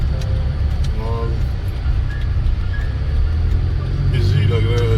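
Busy traffic and a full parking lot outside a Canadian shopping mall give a continuous low road rumble, with passing cars and faint tonal squeals over the steady wash.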